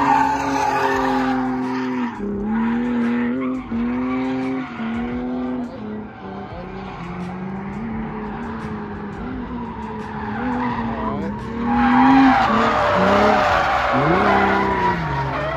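A Lexus IS300 drifting on a track, its tires squealing and skidding loudly and continuously while the engine revs and surges, the screech climbing sharply toward the end.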